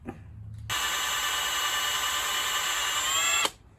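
A high-pitched power drill whines steadily for about three seconds while working on an aluminum wheel, starting abruptly and cutting off sharply, close by with no talking.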